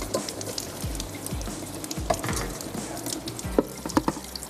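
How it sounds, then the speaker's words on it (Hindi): Cold water pours over cooked biryani rice in a strainer, a continuous splashing rush with scattered drips and small clatters, steady and close throughout. "एक दफ़ा इसको ठंडे पानी से गुजारते हैं"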